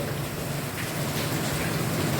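Heavy, continuous rain pours down in a steady, dense hiss of drops on surfaces, loud and unbroken from start to finish with no voices.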